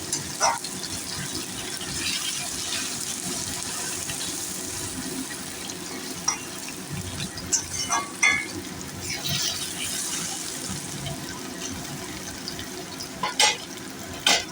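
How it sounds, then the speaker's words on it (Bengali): Potatoes frying in a pan for a vegetarian elephant-foot yam curry, with a soft continuous sizzle broken by occasional utensil clinks and scrapes, moderately quiet and without talk. "এখন আমি আলুটাকে ভালো করে এর মধ্যে ভেজে নেব"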